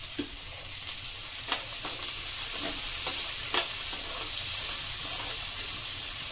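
Carrot, green beans and other vegetables frying in a pan for semiya upma, with a steady bright sizzle and irregular scraping clicks of a spatula stirring throughout, close and fairly loud with no voices.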